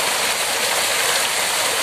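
A continuous rush of flowing water from a stream at dusk, a steady even roar at moderate distance with no pauses and no voices over it.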